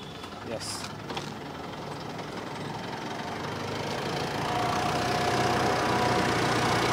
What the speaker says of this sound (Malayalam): അപ്പോൾ അതുകൊണ്ടാണ് ആ കംപ്രസർ പിടിക്കുന്നതിൻ്റെ ഒരു സൗണ്ട് പെട്ടെന്ന് വന്നത്